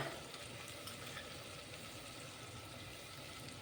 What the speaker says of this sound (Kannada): 2 ಟೊಮೆಟೊ ಚೆನ್ನಾಗಿ ಹೆಚ್ಚಿಕೊಂಡಿರುವ ಅದನ್ನು ಚೆನ್ನಾಗಿ ಫ್ರೈ ಮಾಡ್ಕೊಳ್ಳಿ